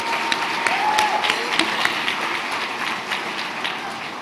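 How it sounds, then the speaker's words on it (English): Dinner audience at a youth awards banquet applauding, a steady wash of many hands clapping at moderate loudness that holds evenly throughout. "So let's give him an applause."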